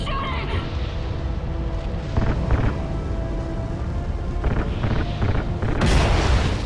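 Explosions and gunfire in Call of Duty Ghosts, a loud continuous rumble of blasts with bursts of shots and a sharp boom near the end, dense and close throughout.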